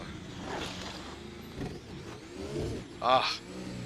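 An F1 car engine in a Baku GP racing video game hums and rises as the car reverses back toward the track, heard at moderate level under a voice talking.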